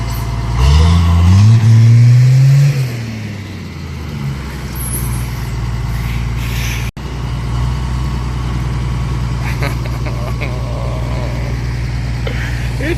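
A double decker bus converted to a campervan strains to move, its engine droning loud and close with a rising rev early on, then settling into a steady heavy idle-like rumble.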